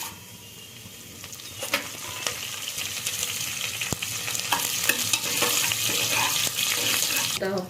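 Whole pulao spices fry and get stirred in a hot pan, with crackling sizzle and scraping spoon strokes building steadily over several seconds, close and fairly loud.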